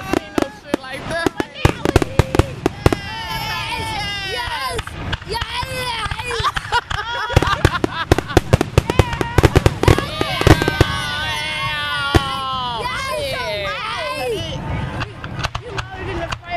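Fireworks burst repeatedly in loud, irregular cracks and booms over an outdoor crowd, with shouting, cheering and excited voices throughout.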